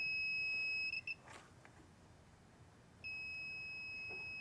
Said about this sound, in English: it's a continuity test, I believe.